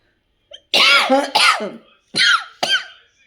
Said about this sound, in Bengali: তুমি কাশো, ওটা করার পরই কাশি এসে গেল।